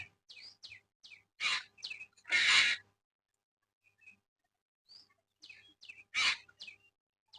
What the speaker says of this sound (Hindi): क्या हो गया इस पक्षी को?